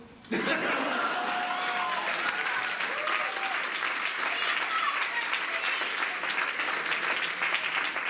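A crowd bursts into loud, sustained applause for two candidates at a live staged event, starting abruptly and holding full and dense throughout, with scattered laughter and voices mixed in.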